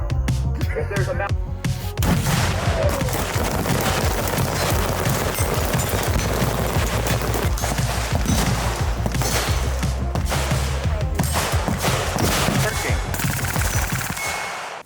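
Dense, continuous gunfire at an outdoor shooting range day, many guns firing overlapping shots and rapid bursts in a steady, loud barrage throughout.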